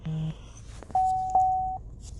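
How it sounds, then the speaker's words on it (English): A mobile phone gives a short low tone, then two sustained electronic beeps and a brief final blip, clear against a quiet background. "sorry, my fucking phone"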